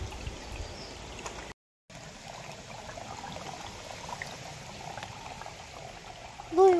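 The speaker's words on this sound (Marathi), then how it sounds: "हा एक छोटा ओढा आहे, पाऊस कमी असल्यामुळे पाणी थोडं कमी आहे बघा" Small, shallow forest stream running low after little rain, a steady soft trickle and babble of water heard close and continuous, with a brief dropout and a faint voice near the end.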